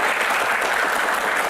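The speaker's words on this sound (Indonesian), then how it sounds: "Tepuk tangan dong semangatnya." Audience applause at an Indonesian political Q&A event, a dense steady wash of many hands clapping at once, loud and continuous for the whole brief stretch, with no voices over it.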